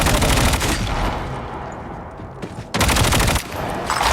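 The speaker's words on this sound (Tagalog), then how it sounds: "Baril ka kasi ng baril." Video game gunfire rattles in loud, dense automatic bursts, easing into a quieter stretch midway before heavy volleys return near the end. No voices are heard.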